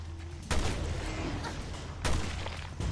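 Gunfire in the video game Resident Evil Revelations 2: two loud booming shots roughly a second and a half apart, with a third starting at the end, over a steady low game hum.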